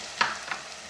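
Soft, steady sizzling of chickpeas and plain yogurt frying in oil, with a couple of brief stirring scrapes over the low hiss.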